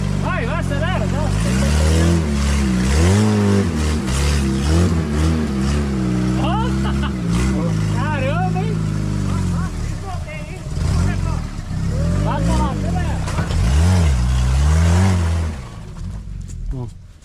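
Off-road car accelerating hard along a muddy trail, engine revving up and down in surges throughout, with people shouting excitedly over it.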